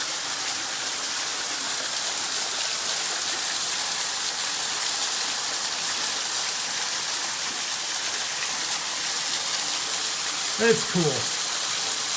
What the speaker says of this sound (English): there's a really cool waterfall when you come out underneath